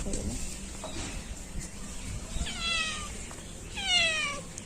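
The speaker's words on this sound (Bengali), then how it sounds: "একদিকে বিড়াল ডাকছে" A cat meows twice in the later part, clear rising-falling cries over low background noise and faint distant sounds.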